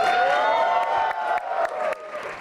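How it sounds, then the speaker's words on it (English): A crowd cheers and applauds as comedian Veer Das is welcomed onstage, a loud burst of whoops and clapping that fades slightly over a couple of seconds. "And then erupts in cheers."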